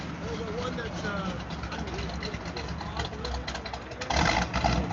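A 1972 Pontiac Trans Am engine idles unevenly with a lumpy, uneven rumble, and a louder surge near the end, at a cars and coffee show; voices can be heard over it.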